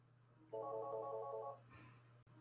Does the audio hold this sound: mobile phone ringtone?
yes